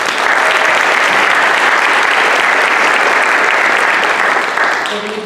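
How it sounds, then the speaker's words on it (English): Loud, dense applause from an audience at a high school senior parent information meeting, sustained throughout and tapering slightly at the very end. "So let's give a round of applause to Rhonda"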